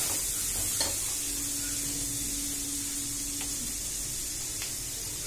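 Chicken noodles stir-frying in a pan as soy sauce goes in, a steady close sizzle and hiss throughout with a few faint clicks and a soft hum.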